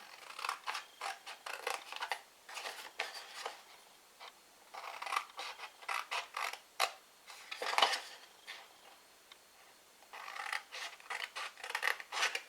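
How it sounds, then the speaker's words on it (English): Scissors snip through card, cutting squares for a handmade roll-up box in short close bursts of cuts separated by brief pauses, with no talking. "we're going to cut each one of these squares up to the next score line."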